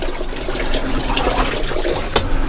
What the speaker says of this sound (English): I'll pour that into the bucket